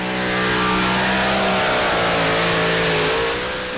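A pulling tractor fitted with an aluminium engine revs hard at a 2.6-ton tractor pulling championship, a loud, close, sustained engine howl with a slight rise and fall in pitch lasting a few seconds.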